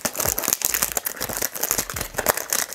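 Plastic wrapping crinkles and crackles up close as a perfume oil box is unwrapped, a dense run of sharp rustling bursts with no talking.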